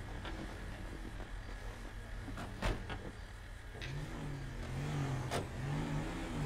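A truck engine idles and revs in the video game GTA 5, a fairly quiet, steady motor sound with one sharp knock partway through. A low rumble grows louder near the end.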